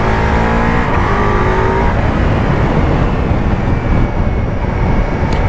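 A Ducati Multistrada V4S motorcycle engine drones loud and continuous while riding through corners, with a brief engine whine early and heavy wind rush throughout.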